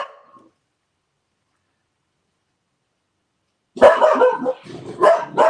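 A dog named Onyx barks in a quick burst of several loud, close yips after a long silence, preceded by a brief faint sound at the start.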